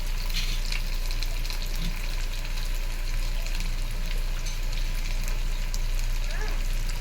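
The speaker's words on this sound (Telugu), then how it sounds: "పచ్చిమిర్చి అలాగే ఆనియన్స్ ముక్కలైతే వేసి ఒకసారి అయితే కలుపుతున్నాను." Green chillies and onion pieces frying in a pan give a steady, close sizzle with soft crackles that stays even throughout, and no one talks over it.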